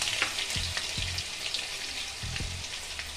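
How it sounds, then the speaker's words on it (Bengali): Steady sizzling and crackling of garlic paste frying in hot oil with a bay leaf and cardamom, with a few soft scrapes of stirring, close up and continuous. "রসুন বাটাটা একটু ভাজা ভাজা করে নিচ্ছি"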